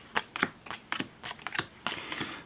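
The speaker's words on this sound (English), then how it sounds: "Just separate the suits, and then I'll be able to shuffle it" A deck of tarot oracle cards is shuffled close by, giving a quick series of soft, crisp riffling bursts in an uneven rhythm with no talking.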